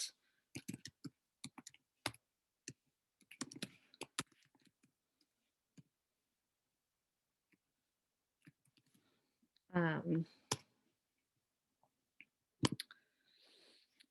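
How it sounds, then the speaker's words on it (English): Fast keyboard typing on a computer, bursts of clicky keystrokes in short runs with pauses, close and fairly quiet, with a brief spoken moment in the middle. "I should probably type that on here real quick so you can see that"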